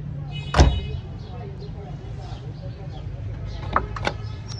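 A Fiat Uno door with a freshly repaired handle opens with a sharp latch clunk near the start, followed by softer rattles and clicks nearby over a low rumbling background, while people talk.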